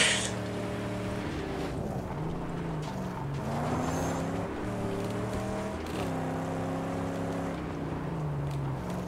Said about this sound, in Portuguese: esse carrinho é muito ruim de dirigir